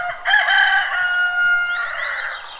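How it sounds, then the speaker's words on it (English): A rooster crows once, loud and close, a long drawn-out call rising and falling over nearly three seconds. "the roosters will find that as the perfect timing to belt their loudest."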